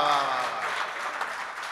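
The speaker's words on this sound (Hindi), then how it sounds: "एक बार तालियां बजाएं।" Faint applause from the audience at a Hindi-Urdu mushaira (poetry gathering) rises as a soft, steady wash of clapping after a poet's couplet.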